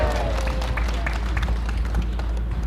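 Congregation applause at a Korean church service after the Lord's Prayer, a steady wash of clapping held at an even level throughout, with a low hum underneath and faint voices.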